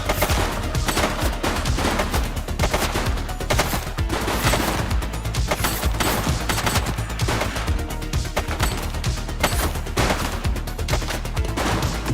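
Rapid, continuous gunfire from a police story video game fills the whole stretch, dense overlapping bursts like machine-gun fire and a fusillade, loud and sustained with no talk over it.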